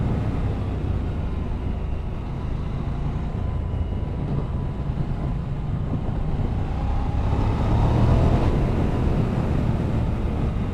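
A QJ Motor SRK900 parallel-twin motorcycle engine drones while riding, a continuous low rumble mixed with road and wind noise that swells slightly near the end, with no speech.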